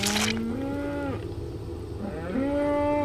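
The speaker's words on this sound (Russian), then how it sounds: "Что с тобой, коровка?" A cow moos inside a horror video game, two long drawn-out lowing calls close by, separated by a short pause, with no talk.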